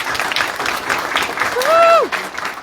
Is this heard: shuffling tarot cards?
no